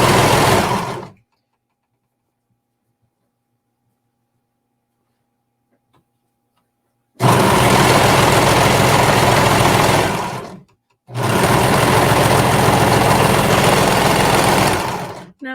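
A sewing machine stitches a seam in stretchy fabric, running in a steady loud whir for about a second, then silence, then two longer bursts of about three and four seconds separated by a brief pause.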